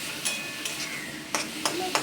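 Drumstick leaves fry in a pan, a soft steady sizzle broken by a few distinct scrapes and clinks as a utensil stirs them.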